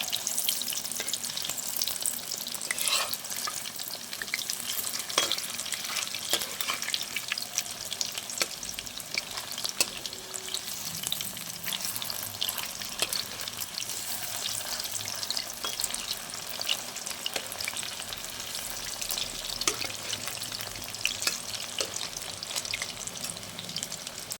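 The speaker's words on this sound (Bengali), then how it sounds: "আমি চিকেনগুলোকে এবার এক পিঠ ভাজা হয়ে গেছে, আর এক পিঠটা লাল লাল করে ভেজে নেব।" Chicken pieces frying in a pan, a steady crackling sizzle with occasional scraping stirs and spattering pops, close and continuous, no talking.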